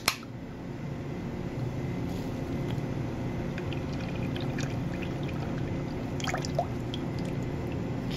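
Canned 100% tomato juice poured into a pot of chili, a steady soft liquid pour with a few faint drips over low background hum, no talking.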